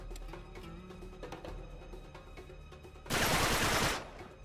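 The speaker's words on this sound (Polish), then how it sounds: "Chciałbym zobaczyć kogoś, kto wytrzyma strzał z tego." Gunfire in the video game Uncharted 3, a loud dense burst of rapid shots lasting about a second near the end, after quieter game ambience and music.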